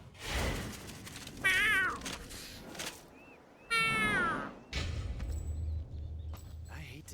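A cat meows twice within a video game scene, each call a rising, wavering cry standing out loudly over a low rumbling background.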